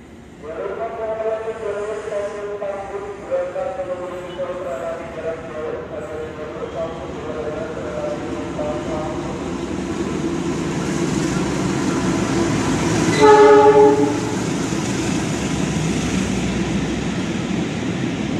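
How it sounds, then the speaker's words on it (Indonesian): A long-distance train passes straight through a station on track one without stopping, rumbling steadily close by with a broad, continuous roar, swelling toward the end where a horn-like tone briefly sounds over the noise. "Jalur satu dari arah barat melintas langsung kereta api jarak jauh."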